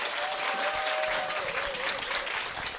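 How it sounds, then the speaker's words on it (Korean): An audience at a Korean corporate seminar gives a big, sustained round of applause to welcome the invited lecturer onto the stage, a thick continuous clatter of hands with a faint tonal hum beneath and no voices. "큰 박수 부탁드립니다"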